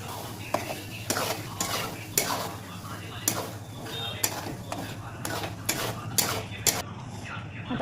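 Spoon scraping and clinking against a pot while masala gravy of roasted onion paste, coconut, ginger, garlic and yogurt is mixed for chicken dum biryani, with repeated sharp taps at a steady rhythm over a low background hum.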